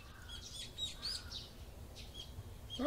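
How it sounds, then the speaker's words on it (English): Birds chirp in the Higurashi video game: a few quiet, scattered tweets over faint background hiss, with short bright calls spaced irregularly. "The chirping of birds served as my alarm clock."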